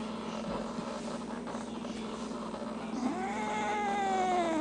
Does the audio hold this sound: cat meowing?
yes